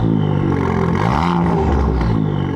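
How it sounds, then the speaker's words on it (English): Ford Fiesta ST with a backbox and resonator delete exhaust revs loudly from the cabin, a rising and falling engine drone with a rasping exhaust note, steady and close throughout with no talking. "I'm currently sitting in my Ford Fiesta ST about to go for a POV drive because now we have the Backbox out as well."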